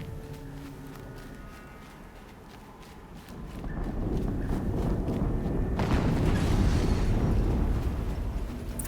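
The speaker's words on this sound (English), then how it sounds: "Another explosion." Explosion in the Horizon Zero Dawn video game: a deep rumbling roar swells in and sustains loudly for several seconds, mixed with scattered footstep-like game sounds and no talking.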